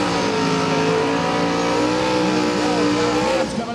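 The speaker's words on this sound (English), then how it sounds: "Enzo, big burnout, man." A 1988 Ford Mustang drag car doing a big burnout at a drag radial race, its engine roaring loud and steady with harmonic revs and tire squeal for several seconds before easing off at the end.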